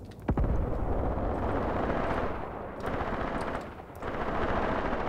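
Sustained machine-gun bursts and heavy gunfire crackle through a World War II battle in the tactical wargame Graviteam Tactics: Mius Front, dense and loud throughout with brief lulls near the middle and end.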